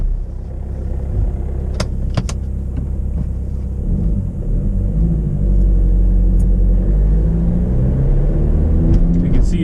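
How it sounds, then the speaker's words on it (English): TDI-powered scooter driving at low RPM, a deep loud rumbling drone with a rattling gearbox underneath, engine pitch climbing gradually as it pulls away, with a few sharp clicks early on. "the gearbox rattle just goes away. But at lower RPM, you can hear it there"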